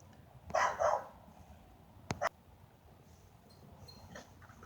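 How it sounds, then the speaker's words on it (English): A dog barks outdoors at a distance, two short bursts of barking separated by a pause, faint against a quiet background. "That damn dog is out there barking over there."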